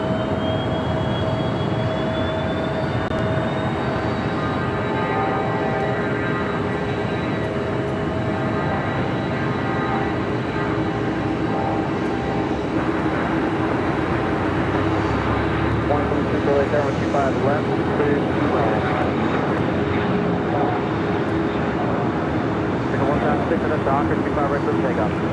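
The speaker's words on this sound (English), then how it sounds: "advance air now rolling down 25 left" Advanced Air plane rolling down runway 25 left at LAX, a steady loud engine roar with a rising whine, continuous for the whole stretch.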